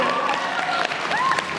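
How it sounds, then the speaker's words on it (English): Audience applause fills a convention hall during a panel with the young cast of IT at a fan expo in Dallas, steady and close with some cheering for the whole short stretch. "Give it a round of applause."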